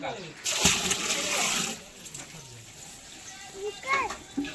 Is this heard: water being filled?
yes